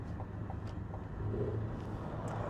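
The exhaust of a 2023 Cadillac Escalade V burbles low and steady at idle, faint and continuous, with no sharp pops standing out.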